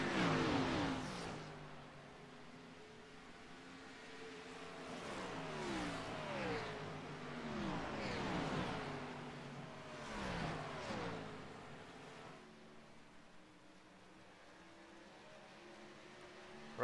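Ford race cars in a Darlington racing video game roar past in repeated swelling waves, each engine rising and falling in pitch. The passes come every couple of seconds before the field thins out.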